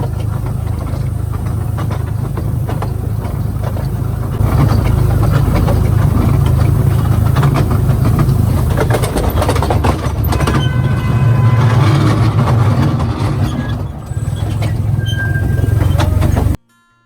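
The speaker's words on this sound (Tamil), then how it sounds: "இந்த ட்ரெயினோட சத்தமும் ரொம்ப நல்லா இருந்துச்சுங்க." A train running along the mountain line near Wulai waterfall, with a steady loud rumble of the cars and engine throughout. It swells louder partway through and has some faint higher squeals, and no one speaks.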